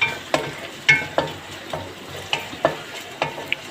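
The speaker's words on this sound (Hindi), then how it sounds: "तो भूनेंगे" Onions sautéing in a pan with ginger-garlic paste and green chillies for a chicken makhni handi, with a soft steady sizzle broken by repeated sharp scrapes and knocks of a spatula stirring, close by and with no talking.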